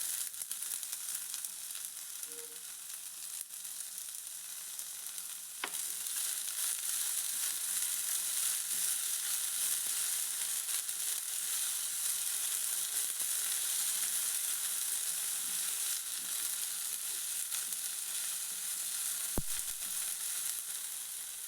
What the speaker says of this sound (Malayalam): നെക്സ്റ്റ് ഞാൻ എൻ്റെ സ്വീറ്റ് കോൺ ആണ് ആഡ് ചെയ്ത് കൊടുക്കണേ.